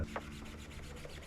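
A magic eraser rubs over melted plexiglass from a Samsung 55-inch TV backlight repair, making a steady, faint scrubbing sound up close with no voices.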